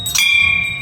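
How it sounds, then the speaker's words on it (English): A single bell strikes before a Dashain prayer ceremony, a bright clang that rings on with a sustained metallic hum, close and loud, with no voices. "the ringing of the bell means that the praying ceremony will start soon"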